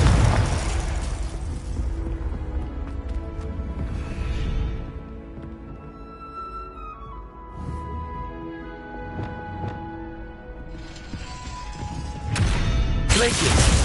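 Confringo blasting spells from Hogwarts Legacy on PS5 go off as heavy booming bursts, one at the start and a longer, louder one near the end, over a steady musical backdrop.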